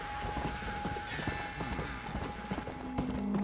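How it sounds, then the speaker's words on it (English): Horse hooves clip-clop on the ground in the Red Dead Redemption: Undead Nightmare video game, a quick run of moderately close steps repeating throughout the clip under faint game ambience. "In the meantime, a living horse."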